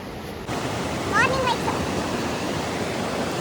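Loud, steady broadband rush of high, fast-flowing water swollen after rain, filling the whole clip close to the microphone, with a brief faint chirp partway through.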